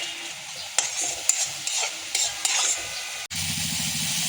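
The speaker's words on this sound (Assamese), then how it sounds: "শাকখিনি ধুনীয়াকৈ ভজা ভজা হৈ গ'ল।" Leafy greens being stir-fried in a pan, with a steady sizzle and crackle broken by sharp scrapes and clinks of a spatula against the metal, close and clear, with no talking.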